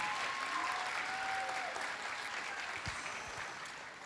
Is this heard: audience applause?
yes